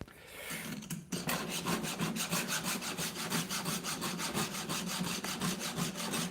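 A hand file sharpening a Vevor chainsaw chain, a dry rasping scrape repeated in a fast, even stroke rhythm after a short pause, close and fairly quiet.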